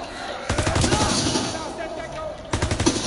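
Automatic gunfire in the World War II shooter Call of Duty WW2, two rapid bursts of rattling shots, the first long and sustained, the second starting near the end, heard at close range.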